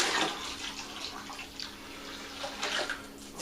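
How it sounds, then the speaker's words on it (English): Water pours steadily into a wine fermentation bucket, being topped up toward the six-gallon mark for dragon blood wine, a quiet continuous splashing trickle with no talk. "I am going to add a little bit more water to that to get it to the 6-gallon mark"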